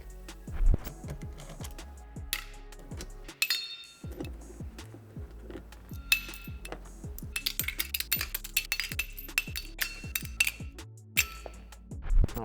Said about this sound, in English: what we need to do first is remove this plastic under tray here